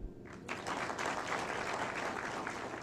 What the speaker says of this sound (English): And we must clap for them.